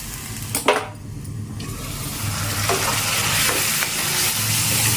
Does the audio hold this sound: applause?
no